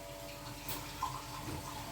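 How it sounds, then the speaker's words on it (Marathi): Water poured from a glass into a mixed spice masala cooking for ghotala, giving a soft, steady splashing trickle that runs continuously for about two seconds, fairly faint, with no talking over it. "आता ना हे मिक्स मसाले थोडं हे शिजायसाठी ना थोडं पाणी घालायचं."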